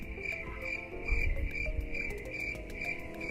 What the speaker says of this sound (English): The crickets are extremely loud today.